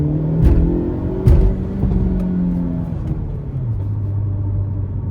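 Engine of a 2025 Hyundai Elantra N under hard acceleration, pulling through gears late at night, a steady close rumbling drone whose pitch climbs and then drops at shifts.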